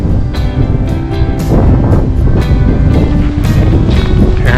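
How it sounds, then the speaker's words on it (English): Strong, loud wind roars continuously through trees on a frigid mountainside at minus 25°F, with gusty surges and buffeting against the microphone. "Well, it's still windy here, but nothing compared to up top. Man, these trees are loud."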